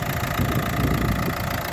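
A 2012 Renault Megane III with a 1.5 diesel K9K engine idles steadily, a close, even mechanical rumble with a fine rhythmic diesel clatter and no voices.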